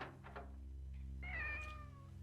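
In the game Otogirisou, a cat gives one clear, wavering meow at moderate volume over a low, steady ambient drone, following a few soft thuds.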